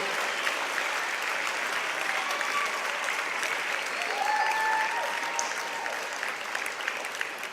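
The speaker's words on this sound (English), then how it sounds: "So please rise, turn backward, and applaud to those who accompanied and support you throughout this journey" Graduates and guests at a 2019 graduation ceremony clap in a long, steady round of applause, dense and fairly loud, with a few faint voices and whistles rising over the continuous clapping.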